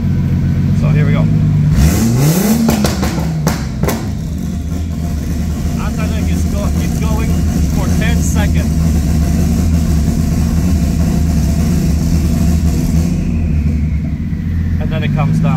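A turbocharged drift car engine with an anti-lag system revs hard up and down close by, giving a loud, continuous rumbling drone with a rising sweep at the start, under speech.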